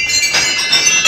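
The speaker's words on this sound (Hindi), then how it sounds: "तो गाइस देखिएगा घंटियाँ, और ये घंटियों की जो ध्वनि है ना" Small bells ringing at the entrance of Kandoliya temple in a rainy oak forest, a steady shimmering high jingle throughout with no voices.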